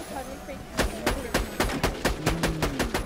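A machine sniper rifle firing in Borderlands The Pre-Sequel: a run of loud, evenly spaced heavy shots at close range, one after another, over a low game background hum.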